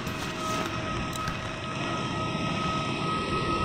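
Airplane waiting at an airport before boarding for a flight to Manila, a steady broadband jet engine roar with a faint high whine, continuous and fairly close.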